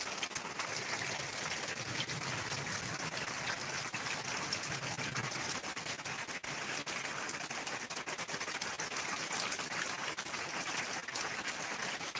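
Heavy rain driven by strong wind pours steadily outdoors near cattle, a dense, continuous hiss of drops spreading across the whole clip at an even, loud level with no voices.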